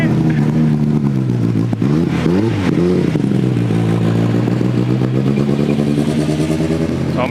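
A race car engine runs loudly and close, its pitch wavering up and down with revs and settling into a rough, steady drone.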